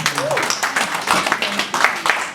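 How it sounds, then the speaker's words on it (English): Applause from an event audience welcoming a faculty member to the stage, a dense patter of clapping with voices and harmonic speech sounds mixed in over the whole stretch. "A round of applause for her."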